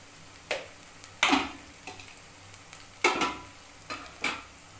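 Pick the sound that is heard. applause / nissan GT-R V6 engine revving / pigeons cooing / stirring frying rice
stirring frying rice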